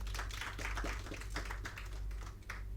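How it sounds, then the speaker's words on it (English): Sparse, faint clapping from a small audience at an orthopedics event, scattered individual claps tapping irregularly at a distance rather than building into full applause. "Let us all join our hands together and give them a huge round of applause."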